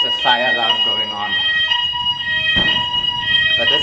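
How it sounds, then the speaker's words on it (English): A building fire alarm sounds steadily at night, its high electronic tones running through the whole stretch with voices talking over it and a burst of rustling noise near the end. "there is a fire alarm going on."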